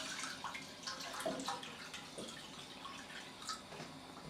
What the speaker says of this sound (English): So pouring the apple juice into the pan.